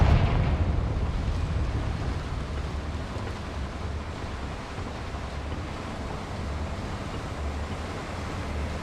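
Confringo fire-blast spell exploding in Hogwarts Legacy, a loud roaring burst that trails off into a long, steady rumbling wash of noise with no distinct further impacts.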